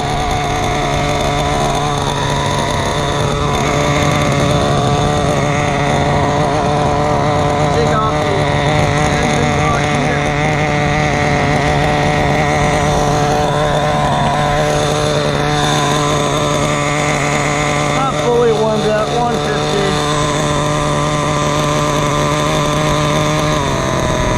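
Kyosho Inferno NEO 3.0 RC car nitro engine running during break-in, a steady loud high-pitched buzzing drone that holds throughout with little change, close by.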